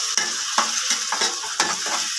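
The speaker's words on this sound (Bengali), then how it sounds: "দিয়ে দিচ্ছি সামান্য একটু পানি," A splash of water added to frying tomato and spice paste for a puti fish curry keeps up a steady hiss, broken by a few distinct stirring scrapes against the pan.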